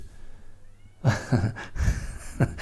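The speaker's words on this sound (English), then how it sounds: "Ruby, the kitten, was just mewling at the window outside" A kitten mewls at a window outside, a few short, close cries after a quiet start, with faint background hum and no speech.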